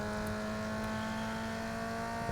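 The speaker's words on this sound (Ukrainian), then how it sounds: "Навіть турбонаду чутно" A racing car engine in Need For Speed Underground 2 drones steadily with a constant high turbocharger whine layered over it, loud and continuous with no voices.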